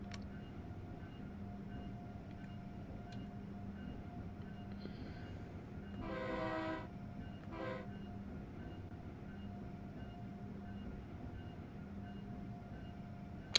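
An Amtrak Acela Express high-speed train runs in Train Sim World 4, with a low steady cab rumble and a brief two-tone horn blast partway through, moderately quiet overall.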